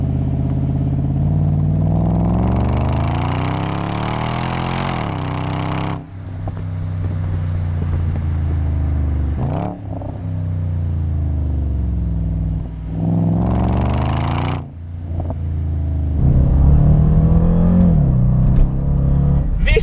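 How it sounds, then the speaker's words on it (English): Supercharged 609 bhp Jaguar XFR saloon engine accelerating hard, loud and close, with rising revs through several gear changes and brief dips between pulls, ending in a deeper throbbing note. "This car makes me bite my lip every time I put the bloody hammer down on it."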